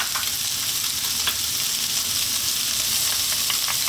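Chicken spring roll filling with carrots, chopped onion and celery being stir-fried in a pan, a loud continuous sizzle with scraping stir strokes throughout and no talking.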